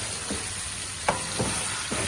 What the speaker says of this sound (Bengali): তারপর লবণ, হলুদ, গুঁড়া মরিচ, গরম মশলা দিয়ে মাংসগুলো কষিয়ে নিচ্ছি।